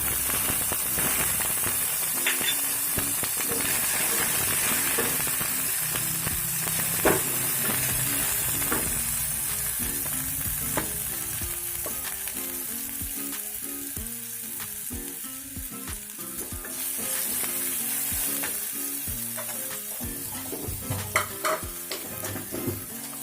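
Cumin, ginger and green chili fry in refined oil with a steady, close hiss and sizzle, crackling and popping irregularly throughout as the pan is stirred.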